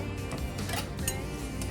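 A whisk clinks and scrapes steadily against a bowl, beating eggs with vanilla extract into red velvet cake batter; the clatter is close and continuous, with brighter metallic taps now and then.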